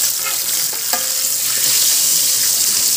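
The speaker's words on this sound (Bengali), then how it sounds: "এই যে দেখেন ভাজা পোড়াটা আমি উল্টায় দিই" Fried snacks such as fish and eggplant fritters are flipped and stirred in hot oil in an electric robot curry cooker, giving a steady close sizzle with scraping stir sounds throughout.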